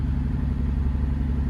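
A Volvo Penta AD41 200HP sterndrive diesel on a Botnia Targa 25 boat runs steadily at working temperature, a loud continuous low-pitched engine drone and rumble with no talk.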